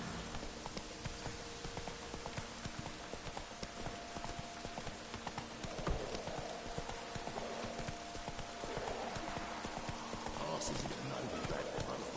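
Horse hooves clip-clopping at a trot in The Witcher 3, a steady rhythmic clatter of hoofbeats continuing throughout alongside ambient game background sound.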